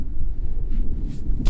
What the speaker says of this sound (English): It's super windy today, you know, it's like 40, 50 kilometer an hour winds.